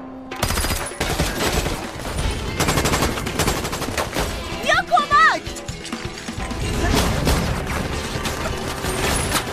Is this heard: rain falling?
no